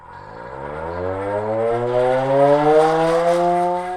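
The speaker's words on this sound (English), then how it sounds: "Sirens like this one were based at parish schools and halls." A Cold War civil defence siren in Jersey, of the kind based at parish schools and halls, winds up from a low growl to a loud, rising wail, then holds a steady sustained tone.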